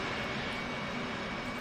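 Twin jet engines of an F/A-18 Hornet run with the cockpit canopy open, giving a loud, steady roar with a constant whine, close by and uninterrupted, with no talking.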